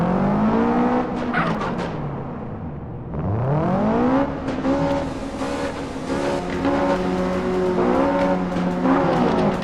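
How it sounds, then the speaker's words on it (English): Modded car engine in GTA San Andreas, revving and shifting through repeated rising whines with tire squeal, swelling and dropping as it accelerates, echoing through a tunnel, loud and continuous. "when you drive through a tunnel, your engine sound now echoes naturally"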